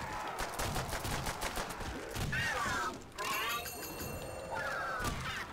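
Trench gun blasts ring out in Call of Duty: World at War Zombies, with repeated gunfire amid game effects and a loud, continuous mix of shots and clatter.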